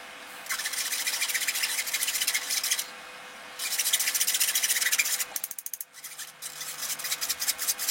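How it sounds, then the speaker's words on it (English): Flour mixed with ground ginger and a pinch of salt being sifted, heard as a close, steady rasping shake in long strokes that break into short rhythmic taps near the end. "ground ginger and a pinch of salt in with the flour, and we're now just going to sift it over."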